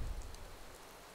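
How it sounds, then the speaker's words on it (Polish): Steady rain falling in the video game Skyrim, a soft continuous hiss with faint patter, quiet and even throughout with no voices. "Ale niestety, jak padało, tak pada dalej."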